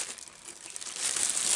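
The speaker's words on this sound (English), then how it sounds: "So it's in this little plastic bag" Thin plastic bag crinkling and rustling close by as it is handled, a steady papery crackle that grows louder and busier toward the end, with no voices.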